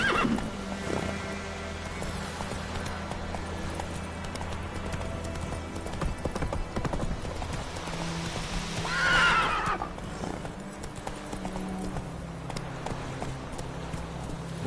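Horse neighs and hooves clip-clop in The Witcher 3 video game, with a rising whinny near the middle over steady game ambience and music; no one speaks.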